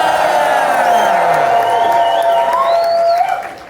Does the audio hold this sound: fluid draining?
no